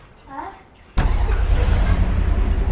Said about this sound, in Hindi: तो मैं ड्राइव कर रहा हूँ, आप देख सकते हैं ड्राइव कर रहा हूँ